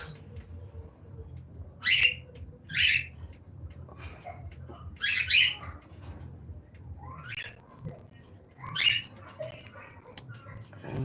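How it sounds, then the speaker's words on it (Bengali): Caged birds on a bird farm chirp and whistle in short, bright bursts, several clustered calls rising above a low steady hum, fairly close and loud. "এখানে কিছু পাখি আছে যেগুলো অনেক খাবার অপচয় করে"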